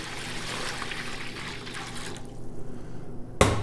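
Hot water, not boiling, from a coffee machine pours and trickles steadily into a container, a continuous splashing flow that briefly quiets before a sharp clunk near the end.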